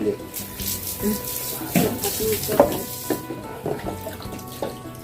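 Vegetables rinsed under a running tap in a small rented-room kitchen before blanching, water splashing steadily with clinks and handling noises while someone talks over it.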